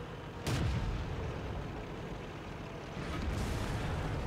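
A Hummel self-propelled artillery piece fires in World of Tanks, a sharp booming report followed by a long rumbling decay, with a second softer shot near the end over steady battle noise.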